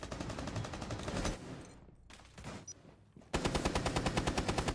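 Rapid automatic gunfire fired through a wall in the tactical shooter Rainbow Six Siege, during a pro league Xbox match, in two dense bursts of evenly spaced shots with a quieter gap between them.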